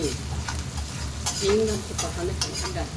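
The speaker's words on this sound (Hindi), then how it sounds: "ये जा रहे हैं सारे मसाले, हल्दी और हींग।" Turmeric and asafoetida sizzling as they hit hot oil in a home-cooking pan, a steady crackling fry with stirring scrapes and a faint voice in the background.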